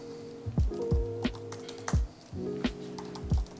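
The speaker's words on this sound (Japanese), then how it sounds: "横でキーボードを少し叩いてみると、" Keys on a computer keyboard struck in short irregular bursts right beside a desk, crisp clacks spaced unevenly over a few seconds with nothing else heard.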